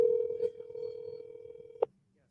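A telephone call tone holds steady for nearly two seconds at moderate level, then cuts off sharply with a brief click. Faint voices murmur in the background.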